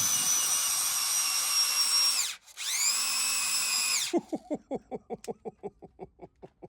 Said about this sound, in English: There is quite a torque on the drill.